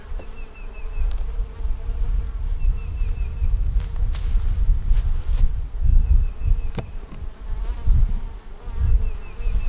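Honey bees swarm around a honey-bound hive, their buzzing loud and close throughout, with individual bees zipping past the listener and light rustling underneath.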